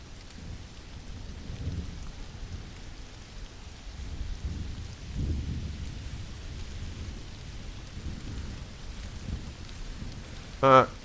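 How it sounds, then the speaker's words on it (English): Rain falls steadily in the video game Stranded: Alien Dawn, a soft, fairly faint hiss with low rumbling swells underneath and a brief sharp blip near the end. "Weather's improving. It's just rain, not snow."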